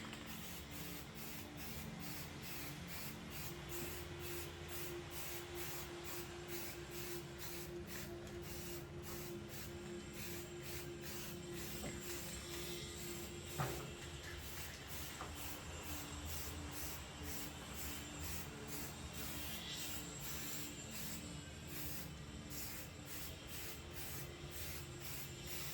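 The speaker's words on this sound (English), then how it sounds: "I'm going to go ahead and put the second coat on it." Second coat sprayed onto an oval mirror: a continuous, even spray hiss held steadily and close for the whole stretch, with one faint knock partway through.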